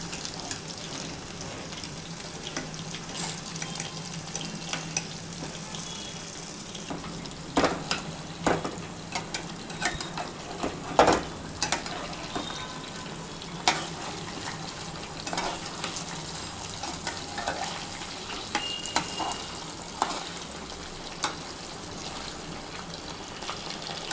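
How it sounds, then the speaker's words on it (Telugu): Chicken pieces frying over a low flame in a home kitchen for chicken fried rice, a steady soft sizzle with occasional clinks and stirring taps throughout, no talking. "సన్నసెగన వేగాలన్నమాట చికెను."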